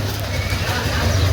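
A horse neighs in a Gujarati household setting, its whinny sitting low and steady through the short stretch, with faint bird cooing behind it.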